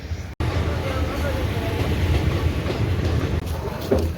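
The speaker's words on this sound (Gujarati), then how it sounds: "અને ટ્રેન પણ આવે." A train passes near a railway level crossing, a loud continuous rumble with rattling wagons that fills the scene, with voices faintly mixed in.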